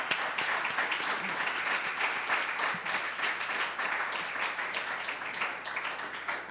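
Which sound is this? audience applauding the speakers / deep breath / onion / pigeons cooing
audience applauding the speakers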